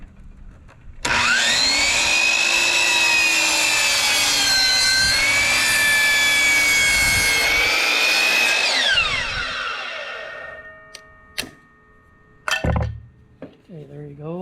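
A power saw cutting wood for a wooden planter, a loud sustained whine running for about eight seconds before spinning down, followed by a few clunks and handling noises.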